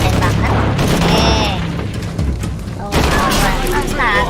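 Gunfire from the video game Shadow of the Tomb Raider, a dense run of shots and booms with mechanical clatter, loud and continuous, with someone talking over it.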